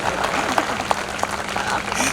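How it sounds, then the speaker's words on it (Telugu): Audience clapping at a school annual day, a steady wash of applause with sharper individual claps popping through over about two seconds. "మీ జీవితాల్లో వెలుగుని తీసుకొచ్చిన అబ్బాయికి ఒకసారి చప్పట్లు కొట్టండి"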